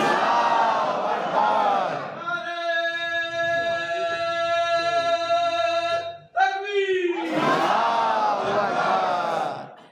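Gathered worshippers at an Eid prayer ground bellow a slogan together in a loud massed roar, then a single amplified voice holds a long, ringing chant before the crowd erupts again in a second unified shout.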